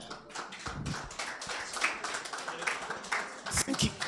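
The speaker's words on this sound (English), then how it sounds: "Yes, you can applaud." Audience at the BusinessDay Energy Conference applauding, an uneven patter of many hands clapping close by with some louder individual claps, continuing for several seconds.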